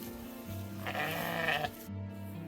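A sheep bleats once, close and fairly loud, in a long wavering call over a steady low background hum, with no talking.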